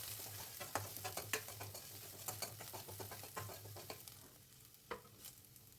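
Ginger, garlic and green chillies sizzle in hot oil in a pan while being stirred, a soft continuous frying hiss broken by scraping spoon strokes, close and fairly quiet.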